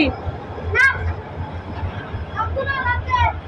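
The Chittagong University shuttle train runs with a steady low rumble close by. Brief high squeals or whistle-like tones rise over it a few times.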